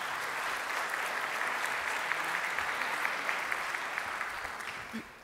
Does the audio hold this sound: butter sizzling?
no